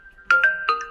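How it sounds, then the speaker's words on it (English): A Huawei Pura 80 Pro phone plays a ringtone preview: a bright, melodic series of four quick electronic chime notes with a sustained tone beneath, clear and close. "in order to listen how the particular ringtone sounds, you have to simply tap on it"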